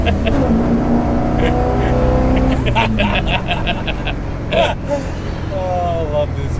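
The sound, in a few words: Holden HQ 253 car engine with Holley Sniper EFI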